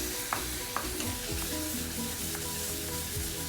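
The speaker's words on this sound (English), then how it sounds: "Keep stirring." Ash gourd halwa sizzles steadily in a pan while a utensil stirs it, scraping and tapping the metal now and then. The close, continuous frying hiss carries no speech.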